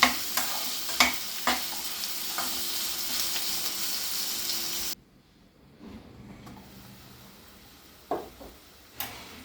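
Onions fry in a pan for an egg dish: a steady sizzle with occasional utensil taps cuts off abruptly halfway, then a quieter crackle and a few knocks follow, and there is no speech.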